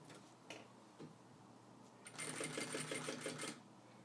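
A sewing machine stitches a seam on a prototype backpack strap, its rapid mechanical needle clatter running steadily for about a second and a half after a few isolated clicks and taps, close and clear.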